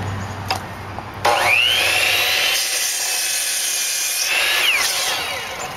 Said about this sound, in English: with the 2x4s, you want to cut one end at a 45-degree angle